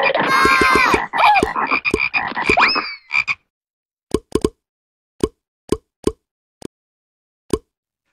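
Frogs croaking in a cartoon-style sound effect: a busy, overlapping chorus of loud croaks and chirps, then a sequence of separate plopping croaks spaced out across the silence.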